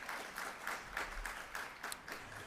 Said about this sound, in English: give yourselves a round of applause for this amazing accomplishment